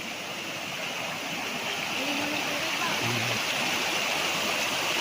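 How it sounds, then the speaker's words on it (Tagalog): Natural spring water on a farm lot in Lucban, Quezon flows with a steady, close rushing and babbling sound that holds constant throughout. "Tingnan natin ang bukal."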